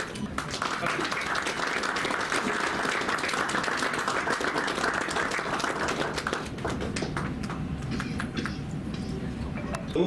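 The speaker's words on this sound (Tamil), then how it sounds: "Please let's give a big round of applause to them" An audience at a public event in Karur bursts into sustained applause, a dense steady wash of many hands clapping with scattered voices mixed in, gradually thinning toward the end.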